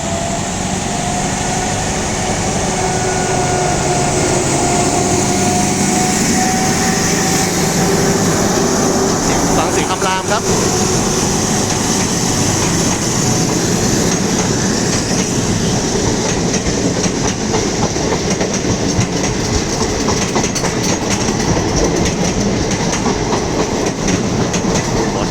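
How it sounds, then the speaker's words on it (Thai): An Alsthom diesel locomotive engine roars loudly nearby with steady rumbling and clattering of rail cars passing, a continuous heavy mechanical drone. "เสียงคำรามอันสตอมนี่ถือว่า ดุพอสมควรเลยนะ ในการเล่นเครื่องนะครับผม"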